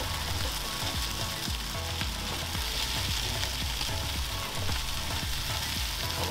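Lamb shanks sizzle and fry in a Weber Q pan, a dense, steady crackling hiss close up with faint scraping of stirring underneath, and no voices.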